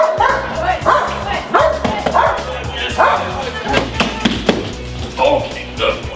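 A protection dog in executive-protection training barks, yips and whimpers in repeated bursts at close range, with tapping sounds and a voice mixed in.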